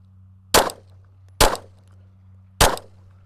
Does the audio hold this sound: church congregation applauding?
no